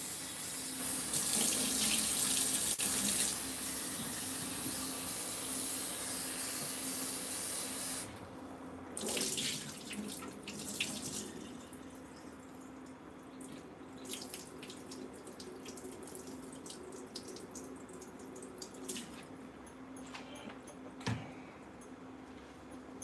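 Cold tap water runs into a kitchen sink to rinse starch from vegetables being prepared for a stir fry: a loud steady gush at first, then softer splashing and trickling with intermittent bursts as the flow is handled.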